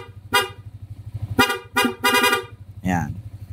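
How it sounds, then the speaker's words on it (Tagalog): A loud Hella twin-tone car horn honks in several short bursts of varying length, close by, over a low idling rumble. "Subukan natin yung kanyang busina."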